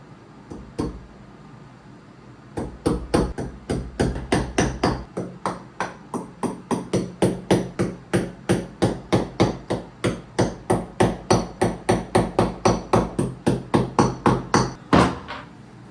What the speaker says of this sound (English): I'm literally just taking an old Tapcon and I'm going to try to put a divot.